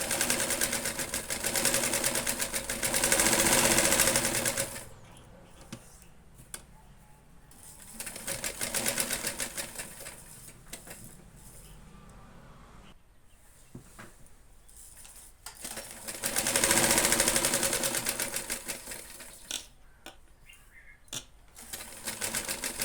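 A sewing machine stitches the side seam of a princess-cut blouse in three loud bursts of about four seconds each, with quieter handling sounds and pauses between them.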